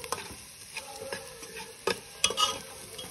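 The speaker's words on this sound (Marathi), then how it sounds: "तर आता चला याला छानपैकी फ्राय करून घेणार आहे सगळं" Spices and mutton masala fry in a pan with a soft sizzle while a spoon stirs and scrapes, making close, irregular taps and knocks with no talk.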